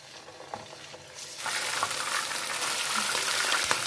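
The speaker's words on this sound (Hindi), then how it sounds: "कढ़ाई में मैंने रखा था कुकिंग ऑयल और इससे मैं कर लेती हूँ फ्राई" Chicken dropped into cooking oil in a kadhai bursts into loud, dense frying that swells and holds as a steady bubbling sizzle, close up, after a few quieter clinks beforehand.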